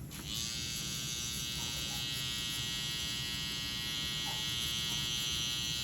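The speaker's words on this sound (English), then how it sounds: "Trimmer." An electric hair trimmer for a high taper haircut switches on and buzzes steadily at close range, a constant high whine held throughout with no talking.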